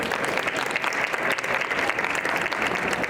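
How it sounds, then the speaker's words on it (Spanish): An audience at a medical expo breaks into loud, sustained applause, a dense wash of clapping from many hands that carries on steadily with no pause. "Un fuerte aplauso, por favor."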